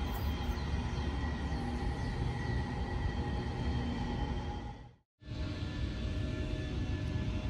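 Steady rumbling of a moving train from inside the car, a continuous roar with rail clatter that cuts out briefly for a moment before resuming.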